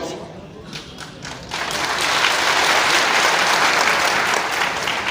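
A crowd at a Bhim Army rally breaks into applause, starting moderate and swelling after a second and a half into loud, sustained, dense clapping.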